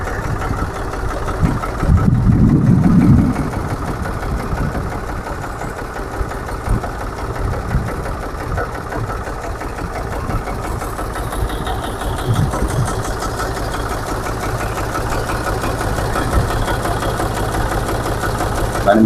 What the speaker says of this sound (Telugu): ట్రాక్టర్ కండిషన్ చూడొచ్చు మనం. బండి బీటింగ్ రన్నింగ్ కండిషన్.